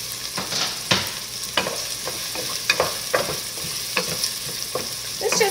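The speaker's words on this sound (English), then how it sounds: "we're just gonna put our onions in here and saute them until they're translucent" Onions sauteing in a pot, a steady close sizzle broken by repeated scraping stirs of a spoon against the pan, with no talking.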